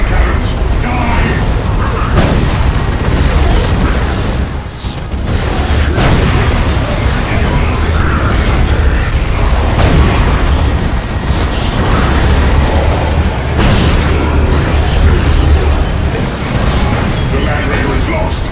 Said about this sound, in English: Firing the bombarding cannons!